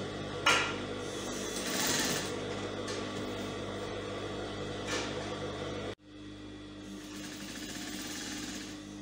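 Sewing machine running steadily while stitching striped Ankara fabric for a kaftan, a continuous mechanical whir that cuts off sharply, then resumes after a brief pause.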